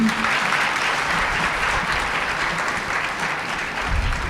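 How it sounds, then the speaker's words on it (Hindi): A congregation claps together during a church talk at an ashram, a continuous, evenly sustained burst of applause from a sizable crowd, loud and close with no speech over it. "ताली बजाइए"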